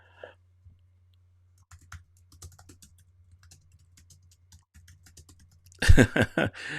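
Light clicks from a computer keyboard patter irregularly and faintly, typing a message, over a low hum, and then a person starts talking near the end.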